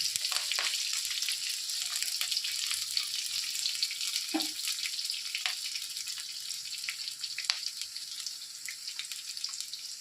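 Continuous sizzling of chopped ginger and green chilies frying in a pan, close and steady, with a few light clicks and a soft knock near the middle.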